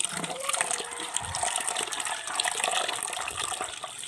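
Ground rice being rinsed in water, with continuous splashing and swishing of liquid close by, steady and fairly soft, with no talking.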